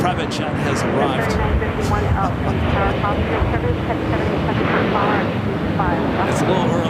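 A jet aircraft arrives at LAX, its steady, loud broadband roar filling the whole stretch while a voice talks over it.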